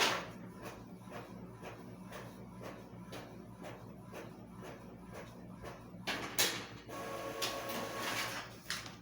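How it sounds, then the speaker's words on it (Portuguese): A printer runs a job in a classroom, its print head sweeping in a steady series of regular mechanical passes, then ending in a louder burst of paper feed and whirring. "Vai imprimir."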